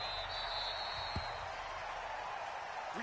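A stadium crowd before a Baltimore Ravens versus Houston Texans game in an NFL video game, a steady, distant wash of cheering and applause filling the background without pause.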